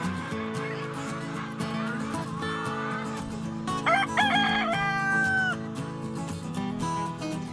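Chickens cluck in a busy farm flock while a rooster crows loudly a couple of times partway through, with honking fowl calls mixed into the steady background chatter of the birds.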